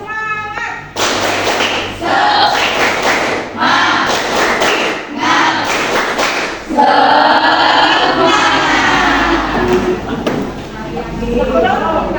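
Students in a classroom doing the rhythmic 'tepuk semangat' spirit clapping chant, loud patterned bursts of group clapping and thumping alternating with short pauses, then shouted voices chanting together near the end.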